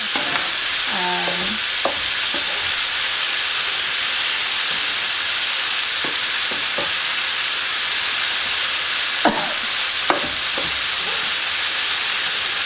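Eggplant and potato sizzle in a pan over high heat for baingan aloo, a steady loud hiss of frying with a few scattered clinks and scrapes of stirring.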